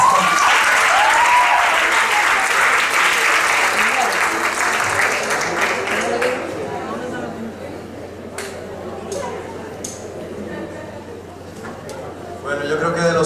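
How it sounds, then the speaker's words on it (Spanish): A crowd at a student book presentation breaks into loud applause that gradually thins out, with chatter and scattered individual claps near the end. "Fuerte aplauso."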